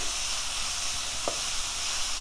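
Vegetables sizzling softly in a pan as they are stirred with salt, a steady close hiss with a single faint scrape partway through and no talking.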